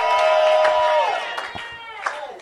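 A church congregation claps and shouts during a sermon: a loud burst of raised, sustained voices with scattered claps, fading after about a second into quieter crowd noise and a few sharp hand claps.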